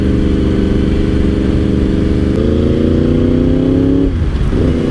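A Yamaha R1 motorcycle engine holds a steady, loud, close drone on cruise control in sixth gear at low speed, its pitch rising slightly partway through before dropping off near the end, with wind noise throughout.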